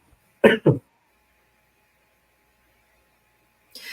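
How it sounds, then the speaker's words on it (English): Two quick throat-clearing bursts close to the mic, then near silence with a faint hum in the background. "I know you need to clear your throat out."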